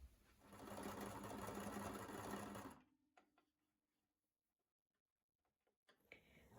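A sewing machine stitches a homemade craft in a rapid, steady close whir for about three seconds, then stops, leaving faint handling clicks in near quiet.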